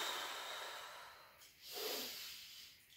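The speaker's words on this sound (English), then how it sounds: "Deep breath in." A slow, deep inhale then exhale through the nose during a seated upper-body workout, close and breathy with a soft hiss, heard alone without talk.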